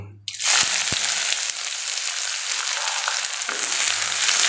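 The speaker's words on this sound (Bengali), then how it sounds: "পেঁয়াজটা ভালোভাবে ভেজে নেব।" Onions hitting hot oil in a pan, starting with a sudden loud burst of sizzle that settles into a steady, close frying hiss, with a few faint clinks and no voices.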